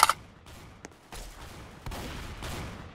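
Gunfire in the Roblox game Strucid: a sharp burst of shots at the start, then a few scattered, muffled reports and rumbling bursts over game background noise, with no talk.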